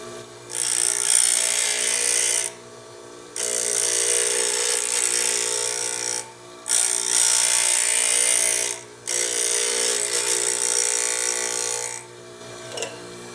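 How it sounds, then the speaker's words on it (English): Steel tool edge ground on a powered grinder for sharpening, four loud hissing bursts of several seconds each separated by short pauses, with a steady motor hum running underneath. "We're going to grind a little more."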